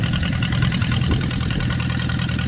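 A Palmer 60 V-drive marine engine runs in forward gear on a boat, a loud steady low rumble with a throbbing idle pulse, close by and without speech.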